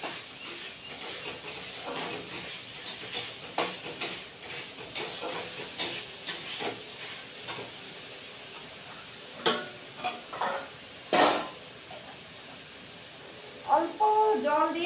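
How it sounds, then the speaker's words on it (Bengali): Banana stem being fried in a pan with salt and turmeric and a splash of water, soft sizzling broken by repeated sharp stirring scrapes and clatters of the spatula, with talk over it. "অল্প জল দিয়ে যাতে মানে লেগে না যায়, এখানে অল্প জল দিয়ে দিয়ে ভেজে নিব"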